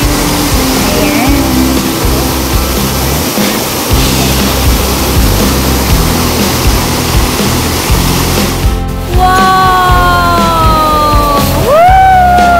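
Water rushes and splashes loudly and steadily at a Hong Kong Disneyland water attraction, a close, continuous roar with a few rising tonal whistles near the end.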